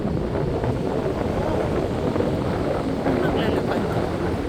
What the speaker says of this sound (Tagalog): So medyo windy dito.